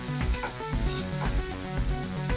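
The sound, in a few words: sautéing garlic in pan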